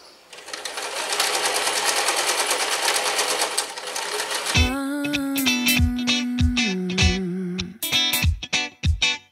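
An electric sewing machine stitches a Minions sleep mask, first a fast steady run of needle strokes, then shorter stop-start bursts with a sharp motor whine as the fabric is turned.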